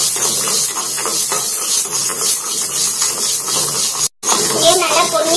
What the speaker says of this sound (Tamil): அதே அளவுக்கு உளுந்து இதையும் நல்லா கோல்டன் ப்ரௌன் வர அளவுக்கு நல்லா வறுக்கணும்.